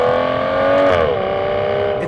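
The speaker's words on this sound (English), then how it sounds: "by using the manual shift paddles, I'm the conductor of this wonderful symphony, and I can make the engine sound however I want" An Aston Martin Vanquish engine revs loudly and close, holding a steady, rich note before the pitch drops as the revs fall.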